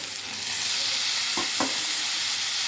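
Chopped tomatoes go into a hot pan of curry leaves with ginger-garlic paste, a steady loud sizzle with a couple of brief stirring knocks and no speech.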